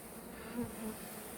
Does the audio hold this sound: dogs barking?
no